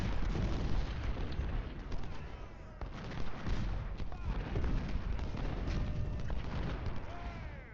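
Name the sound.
artillery fire in Ultimate General Civil War video game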